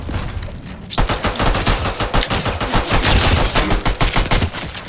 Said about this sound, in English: Ooh, I hear shots fired.